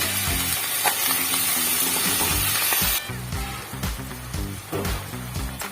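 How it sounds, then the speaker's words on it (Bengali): A paste of tomato and green chili spits and sizzles as it hits a hot pan after ginger paste, a loud continuous frying hiss with tonal background music underneath that fades partway through. "একটু ভেজে নেবো এবার আমি টমেটো আর কাঁচা লঙ্কা পেস্ট করে সেটা দিয়ে দেবো"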